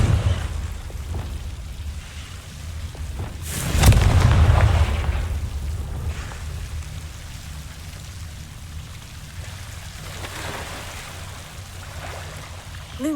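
A Confringo fire spell bursts in Hogwarts Legacy with a single booming explosion and a rushing roar that fades slowly into crackling, rain-like ambience, with no one speaking over it.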